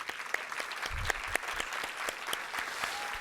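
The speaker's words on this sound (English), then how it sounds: "I'd just like all of us to give them a round of applause for this incredible meal" Diners at an awards dinner applaud the chefs after a meal, dense clapping from a large audience at moderate level, with a few sharper individual claps standing out and a brief low thump partway through.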